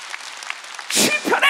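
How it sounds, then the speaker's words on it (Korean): A church congregation breaks into loud hand clapping after a moment of quieter sound, a short burst of sharp claps that rises to a peak near the end. "박수도 치려면 세게 쳐봐."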